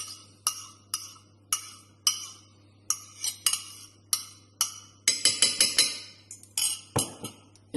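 Banana batter being stirred in a bowl with a utensil, giving a steady series of sharp clinks and scrapes against the bowl's side that quicken into a denser burst near the end, close and clear with no talking.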